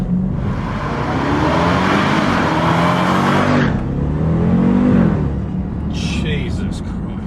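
Supercharged 6.2-litre V8 in a Jeep Grand Cherokee Trackhawk revving hard, a loud rising engine roar with shifting pitch that drops off sharply partway through, followed by a brief rev and quieter idle.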